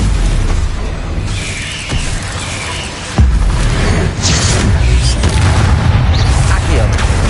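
Deep booming blasts from the Confringo blasting curse in the Hogwarts Legacy video game, one sharp burst standing out midway amid a constant rumble of game sound effects.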